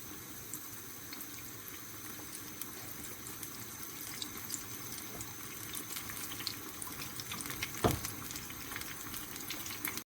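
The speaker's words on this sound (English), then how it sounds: "I'm gonna dip it in a hot oil" Steady hissing and sizzling of onion bhaji frying in hot oil, a continuous crackling bed with one brief louder pop near the end.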